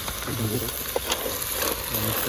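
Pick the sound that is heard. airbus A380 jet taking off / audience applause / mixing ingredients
mixing ingredients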